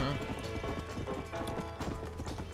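Horse hooves clip-clop in a quick steady rhythm in the Red Dead Redemption video game, a continuous trotting patter at moderate loudness with faint game ambience underneath.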